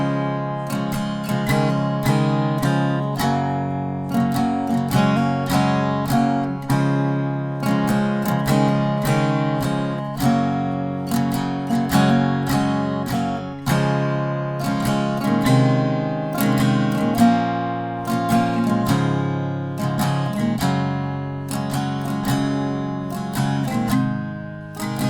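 An acoustic-style guitar strums the verse chords of The 1975's "Be My Mistake" in a steady, repeating rhythm of bright chord strokes, played alone and close for the full stretch.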